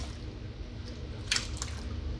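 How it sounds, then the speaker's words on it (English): Leaf lettuce is pressed down and stirred in a tub of water, giving soft squishing sloshes with a couple of brief wet splashes midway, close and quiet over a low background hum. "I'm just pushing it down to stir it."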